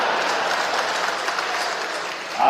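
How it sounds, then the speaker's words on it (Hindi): Steady, dense applause rolls through a convention hall of Madhya Pradesh panchayat secretaries, many hands clapping at an even level for a couple of seconds, with a brief voice rising at the end. "वैसे आपने ताली इतनी बजा दी"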